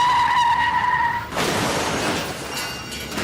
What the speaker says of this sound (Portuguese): Chefe está capotando.